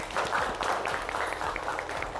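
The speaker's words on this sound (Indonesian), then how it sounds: "tepuk tangan" Classroom applause from students during a teacher-training lesson, a steady patter of many hands clapping together at moderate volume, continuous with no pauses.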